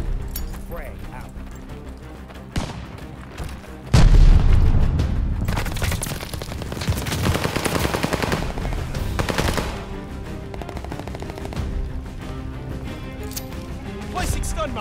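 A frag grenade bursts with a heavy boom in Call of Duty Vanguard multiplayer, followed by rapid bursts of gunfire that rattle on for several seconds, with game voices talking in between.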